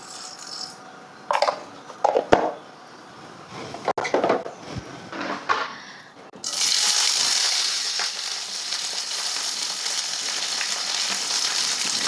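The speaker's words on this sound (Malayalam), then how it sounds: "ഇനി അതിലോട്ട് കടുക് ആഡ് ചെയ്ത് കൊടുക്കുക." Mustard seeds hit hot ghee after a few seconds of knocks and clatter from the pan, then burst into a loud, steady, close sizzle with fine crackling that fills the rest of the moment.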